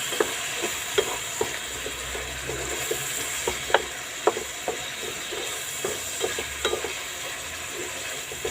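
Browned onions with tomato added fry in a pan, giving a steady close sizzle with repeated light stirring clicks and scrapes through the whole stretch.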